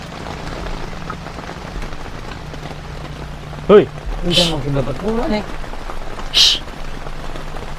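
Heavy rain pours steadily onto a tent at a campsite, a dense continuous patter close overhead, while a few voices speak briefly and softly beneath it.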